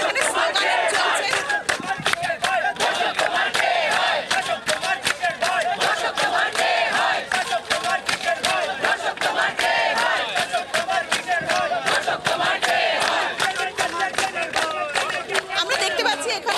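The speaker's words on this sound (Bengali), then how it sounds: "একদম মাত্রই তুমি শুনতেই পাচ্ছ এখানে স্লোগান চলছে।" A dense protest crowd at Hazra chants slogans loudly and continuously, rhythmic voices shouting in unison with a constant hubbub underneath, at a rally over the R G Kar case joined by Tollywood artists and crew.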